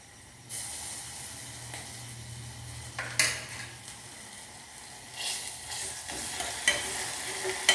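Onions fry in a pan with a steady close hiss and sizzle, a spoon scraping and stirring now and then, with brief clinks against the metal.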